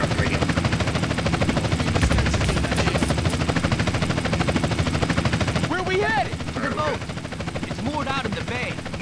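Helicopter lifting off in Grand Theft Auto San Andreas, a steady dense rotor and engine drone filling the whole clip, with brief warbling game tones and other effects layered over it near the end.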